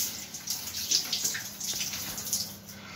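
Cold tap water runs steadily in a home shower, a continuous hissing spray with small splashes and no voices.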